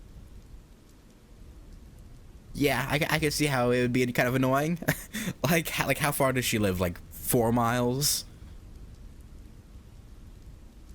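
Steady rain ambience from the visual novel game Witch on the Holy Night, a soft continuous hiss heard alone at the start and end, with people talking over it through the middle.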